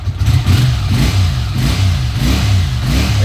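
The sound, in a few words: CX500B motorcycle engine running on choke, revving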